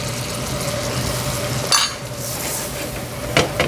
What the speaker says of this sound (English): Put down the roux, so it's a blonde roux.